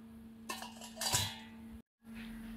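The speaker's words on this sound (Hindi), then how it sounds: "चावल को हम बाउल में डालेंगे।" Leftover rice being tipped into a bowl, a few soft clinks and scrapes of a spoon against the dish, quiet and brief, with a short silent gap before a low background hum returns.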